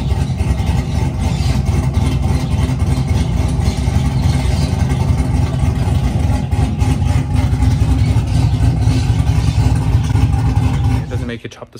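A truck engine idles through its exhaust pipe with a steady, loud, low rumble and a faint chop. It runs continuously for most of the stretch, then cuts off abruptly near the end, with some faint talk underneath.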